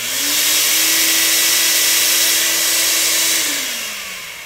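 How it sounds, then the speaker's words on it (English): A vacuum cleaner serving as the electrical load on a protective relay demo unit whines loudly and steadily close by, then spins down toward the end as it is switched off. "I had to manually shut off the vacuum cleaner."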